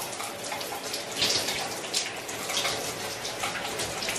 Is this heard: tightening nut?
no